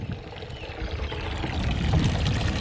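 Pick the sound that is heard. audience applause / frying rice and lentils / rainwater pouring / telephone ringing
rainwater pouring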